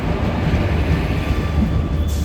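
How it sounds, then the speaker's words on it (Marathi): The Nandigram Express from Parbhani Junction to Dadar pulls into a station platform with a steady, heavy low rumble and rolling hum throughout, loud and close, with no voices. "नंदीग्राम एक्सप्रेस आत्ता प्लॅटफॉर्मला आलेली आहे."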